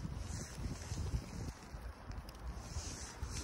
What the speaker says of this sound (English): See, we got a lot of wind right now.